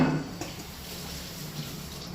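Water poured from a small bowl into a kitchen vessel while making nylon khaman, a soft continuous splashing trickle, close by and fairly quiet.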